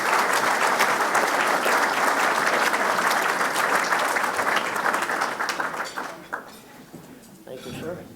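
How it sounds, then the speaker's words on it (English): Sustained applause from a crowd gathered at an Illinois Tollway event, loud and dense at first, then thinning and fading toward the end with a few scattered claps and some background voices. "Give her a round of applause."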